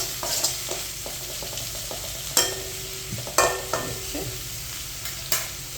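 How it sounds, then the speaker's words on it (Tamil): Bitter gourd is sautéed in a pan with a steady sizzle, punctuated by a few sharp scrapes and clatters of a spatula stirring it, with no talk. "இப்போ மறுபடியும் பாக்காய் போட்டு வதக்கட்டும் போகிறோம்"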